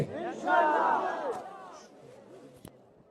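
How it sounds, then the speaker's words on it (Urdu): A rally crowd in Laki Marwat raises a loud, surging chanted shout that swells quickly and then fades into scattered voices and a sharp knock, heard at a distance without clear speech. "میرے ساتھ مل کے فلک شگاف نعرے لگاتے ہیں، خان کے حق میں، ظلم کے خلاف، جبر کے خلاف۔"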